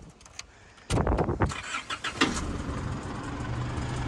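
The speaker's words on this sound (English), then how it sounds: "So it runs perfect, nice and quiet motor." A station wagon's engine, with 515,000 km on it, turns over and settles into a smooth, steady, quiet idle, fairly close, with no voices.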